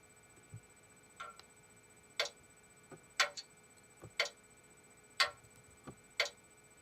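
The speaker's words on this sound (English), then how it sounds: "Clock is ticking." A clock ticks sharply in a quiet room, irregular single clicks spaced about a second apart, fairly close and clear.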